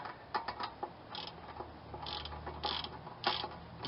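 A ratchet tightens a castle nut to draw a Toyota tie rod down into the steering knuckle, giving quiet irregular bursts of clicking and creaking mechanism sounds.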